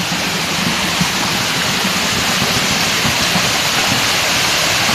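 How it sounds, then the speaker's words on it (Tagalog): A natural spring flows outdoors with a loud, continuous rushing of water, steady and unbroken throughout with no voices. "May tubod, burabod."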